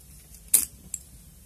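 Keys for a Mako lock jangle close by in one short, bright metallic shake, followed by a fainter clink a moment later, in a quiet room.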